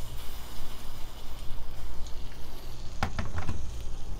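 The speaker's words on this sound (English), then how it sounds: "You hear the sizzling noise?" A steady hiss and sizzle of hot water from a Flair 58 lever espresso machine during a flush, continuous and close, with a few small clicks near the end.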